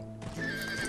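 A video-game horse in a Wild West setting lets out a loud, close whinny with hoofbeats clip-clopping underneath, filling the short moment after a brief quiet start.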